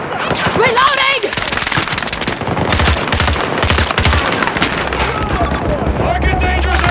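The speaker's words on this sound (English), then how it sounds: "They're shooting, boy!" Rapid automatic gunfire and scattered shots in the shooter game Battlefield 2042, dense bursts crackling loudly and continuously, with voices shouting in the mix.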